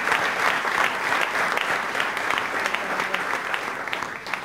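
Audience applause at a political forum on Peronism in Argentina, a sustained burst of crowd clapping, fairly loud and even throughout.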